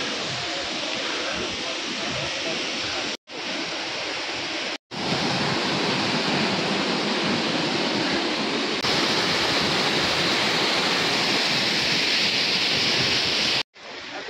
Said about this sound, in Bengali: এখানে অনেক কটা ঝর্ণা পরপর।